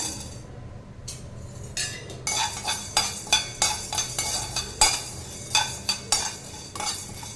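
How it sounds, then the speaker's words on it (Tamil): Chana dal roasting dry in a pan for a spice powder, stirred with a metal spoon that gives repeated sharp clinks and scrapes against the pan over a low, steady background, close and fairly loud, with no talk. "இதுவும் நல்லா செவக்க வறுத்துட்டு பார்க்கலாங்க"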